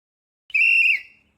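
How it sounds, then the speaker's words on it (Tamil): A PT teacher at school gives one short, sharp blast on a whistle, lasting about half a second, loud and close against silence. "அடிக்கடி விசில் அடிக்கிறாரு"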